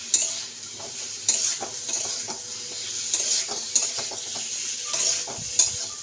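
Malabar spinach stems sizzling in a pan with spices while a spoon stirs them in repeated scraping strokes, a steady close frying hiss under the clatter.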